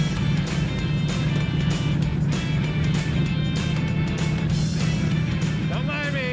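A custom motorcycle powered by a 330-horsepower Lamborghini engine roars steadily at close range with a deep, continuous drone, while people talk over it.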